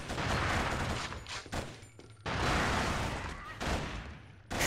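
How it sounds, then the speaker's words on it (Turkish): Shotgun and other gunfire in an online Killzone match, with dense bursts of loud shots in rapid clusters broken by brief lulls near 1.5, 2 and 4.5 seconds. "Lan kim sıkıyor? Nereden? Lan pompalı."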